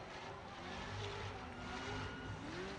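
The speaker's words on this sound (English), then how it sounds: "Listen to those engines purr." A continuous roar of drift car engines at Evergreen Speedway, distant and droning with rising and falling pitch, no clear voices.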